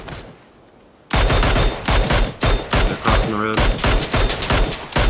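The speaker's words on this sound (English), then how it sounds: "They're shooting at me." Gunfire in PUBG during a squad match, with bursts of rapid automatic shots that start abruptly after a quiet moment and continue loud and close, while players talk briefly.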